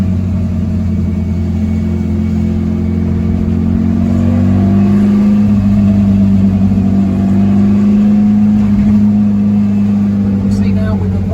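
A VW Super Beetle fitted with Holley Sniper EFI drives down a back road, its air-cooled engine droning steadily and rising slightly in pitch midway as it pulls, close and loud throughout.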